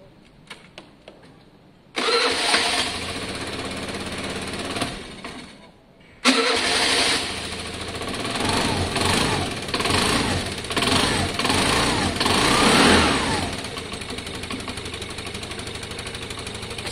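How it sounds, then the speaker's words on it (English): Piaggio Fly scooter with a freshly rebuilt carburettor cranks and catches after a brief quiet start, then settles into a loud, busy, slightly uneven idle that carries on steadily to the end with no talking. "Let it idle for a couple of minutes, let the choke come off, maybe set the idle if needed, and then see how it runs."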